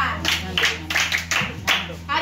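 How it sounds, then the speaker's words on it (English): Schoolchildren at a nursery and primary school clapping for a pupil in a handful of distinct bursts, close by, with voices talking over and between them. "Yes, clap for her."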